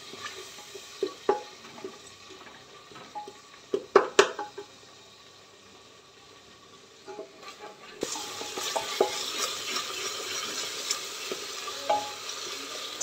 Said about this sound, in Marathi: छान असं आपल्याला फ्राय करून घ्यायचा आहे मसाला